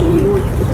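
A short, soft pigeon coo from a Rawalpindi pigeon loft rumbles low and close, a single drawn-out note with a bit of background hubbub.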